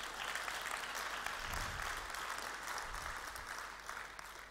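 A church congregation applauds the sound team in a steady, fairly faint wash of clapping that continues evenly throughout.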